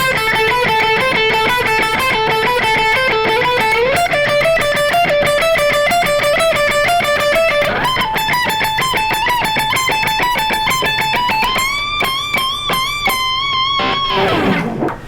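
A loud distorted electric guitar lick from a solo, with sustained notes that bend upward, ending in a final bent note and quick fade.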